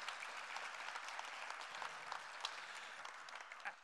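Audience applause at a software keynote, a steady wash of many hands clapping continuously, even and sustained, with no voices over it.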